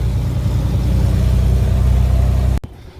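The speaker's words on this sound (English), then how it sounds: "International truck, she's got a good sound to her." An International truck engine idles close by with a loud, steady low rumble that cuts off abruptly near the end.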